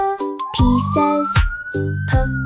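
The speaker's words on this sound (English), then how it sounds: "P is for police car, police car." Police car siren in a children's phonics song, a loud rising wail repeated over a bouncy musical backing, heard up close for a couple of seconds.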